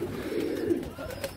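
A pigeon that returned home after fourteen months coos close by, one continuous low, throaty coo that rolls on throughout with no voices over it.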